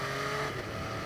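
An MV Agusta F3 675 sport motorcycle accelerates through a quickshift, with a dense, loud engine roar and wind rush throughout the brief moment.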